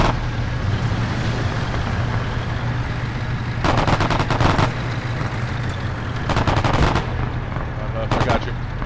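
Machine-gun bursts rattle out in short volleys over steady engine rumble during a desert battle against infantry in North Africa, with three separate bursts spaced a couple of seconds apart, loud and close.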